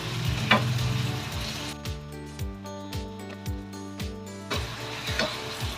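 Pork fries in a pan with garlic, pepper, sugar and soy sauce, keeping up a steady sizzle broken by regular stirring scrapes and knocks at close range, with no voices.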